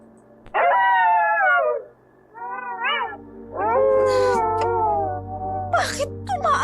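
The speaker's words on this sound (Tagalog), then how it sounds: "Bakit tumaalulong ang mga aso ko?" Several pet dogs howl in long, wavering, overlapping wails, loud and close, each rising and falling before trailing off, with short pauses between bursts and a low hum underneath.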